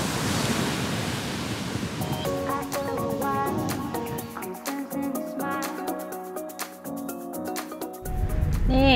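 Ocean waves wash steadily onto the beach at Point Dume in Malibu, a loud continuous surf roar with tonal music playing over it through most of the stretch.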